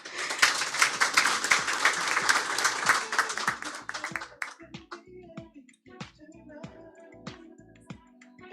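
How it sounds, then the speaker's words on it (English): A crowd applauding loudly for about four seconds, then the clapping thins out into scattered claps, with a voice briefly speaking near the end. "Now you can applause."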